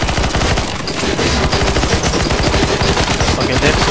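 Dense, loud automatic gunfire in the zombie mode of the game CS:GO, rapid continuous bursts of shots filling the whole stretch without pause.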